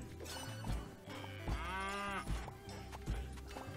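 A cow moos in the game Fluffy Horde: a drawn-out, wavering low moo under busy game music, accompanied by rhythmic thumps and clip-clop footsteps.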